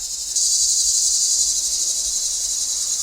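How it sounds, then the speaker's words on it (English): Cicadas chirp in a loud, continuous high-pitched buzz that holds steady from start to finish with no voices. "I think we're gonna have to pause video for the cicadas"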